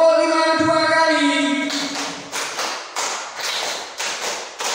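After a leader's spoken cue, a group in a classroom clapping game claps five beats twice over, a steady series of crisp, evenly spaced claps standing alone.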